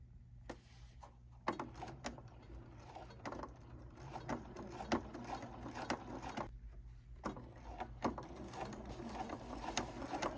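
A sewing machine hems around the top of a pant leg with a size 14 or 16 needle, its mechanism whirring and ticking in quick, uneven bursts with short pauses, fairly quiet and close.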